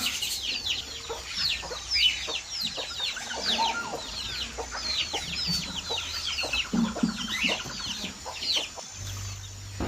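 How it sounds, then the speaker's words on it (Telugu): A hen and her small chicks call on a farm, with rapid overlapping high peeps and soft clucks repeating throughout, close and steady, with no one speaking. "మా బుడ్డి కోడి పిల్లల్ని బయటకు తీసుకొచ్చి వదులుతామండి."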